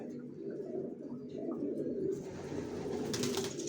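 Racing pigeons cooing softly in a loft, low murmuring coos repeating over a steady background hum, fairly faint and with no voices.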